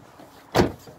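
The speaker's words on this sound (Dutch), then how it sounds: "Deurken toe doen." A car door slams shut once, a single sharp, close thud midway through an otherwise quiet moment.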